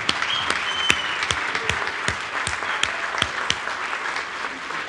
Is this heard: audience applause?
yes